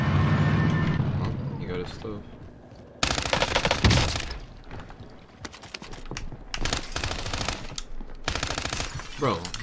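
Rapid automatic fire from an LC10 submachine gun in Call of Duty: Warzone (Cold War era), loud bursts at close range with sharp broadband cracks, interleaved with in-game noise and a player's voice speaking over it.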